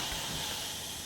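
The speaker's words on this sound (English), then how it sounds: "the iron is always good if you have a little water in it for a little steam" A steam iron with a little water in it hisses steam onto fabric while a centre zipper is being sewn, a steady close breathy hiss that holds evenly for about a second.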